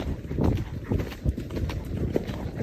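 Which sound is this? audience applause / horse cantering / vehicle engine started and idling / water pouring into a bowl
horse cantering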